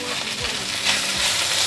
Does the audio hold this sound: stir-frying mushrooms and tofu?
yes